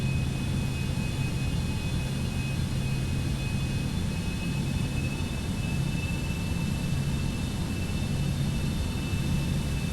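A Cessna Citation X jet taxiing on the ground hums with a steady, loud engine whine and low rumble, an unbroken drone with faint tonal lines holding level for the whole stretch.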